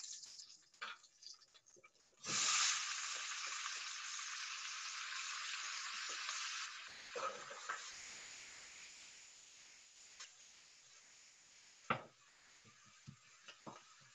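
Onion hits a hot pan and breaks into a loud, hissing sizzle that slowly settles into softer frying crackle, with scattered clicks and a sharp knock near the end.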